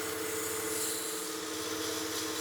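Sandpaper rubs steadily across a wooden spinning top turning on a lathe, a continuous close rasping hiss over the low hum of the spinning machine, with no pauses.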